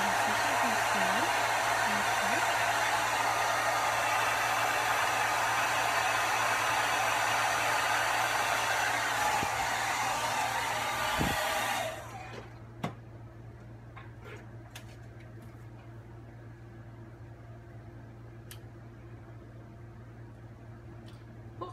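A hair dryer on its warm setting blows loud and constant up close for about twelve seconds, then cuts off, leaving a quiet room with a few faint clicks.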